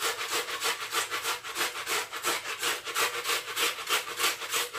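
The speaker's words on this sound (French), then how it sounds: "Donc la tomate, je vais la hacher," Tomatoes are chopped on a cutting board in a fast, even rhythm of rasping strokes, about four per second, close and bright, with no voices.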